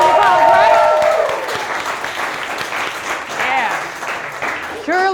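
Audience applause fills a live venue during a cooking show, a steady wash of clapping with cheering and voices mixed in, loud and close, easing slightly before swelling again at the end.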